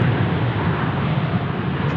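A US Air Force C-17 taxiing at Sydney Airport makes a steady, continuous engine rumble with broadband roar that stays even and fairly close throughout, with no voices.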